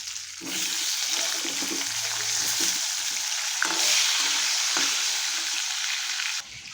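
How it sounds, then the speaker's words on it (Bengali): Potatoes fry in a wok of hot oil for a jackfruit and prawn curry, a strong, steady sizzling hiss with occasional stirring scrapes and pops, cutting off abruptly just before the end. "এখন ইঁচড়ের জন্য আলু ভেজে নেব।"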